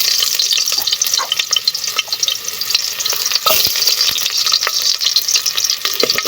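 Onion goes into a cooking pot with garlic already sautéing for tinola, giving a loud, close sizzle with busy crackling and spoon scrapes throughout, no voices.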